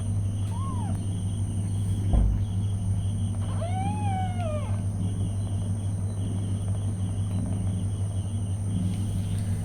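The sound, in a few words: mother cat with newborn kittens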